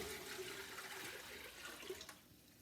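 Tap water runs steadily into a container while eight cups are measured out for chicken tortilla soup in a home kitchen, a soft continuous rushing close by that tapers off near the end, with no talking.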